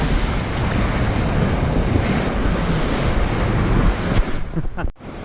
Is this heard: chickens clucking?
no